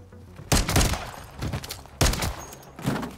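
Pistol shots in a sidearm swap finishing move in Call of Duty MW3, two sharp close bangs about a second and a half apart, each followed by short thuds, with quiet gaps between.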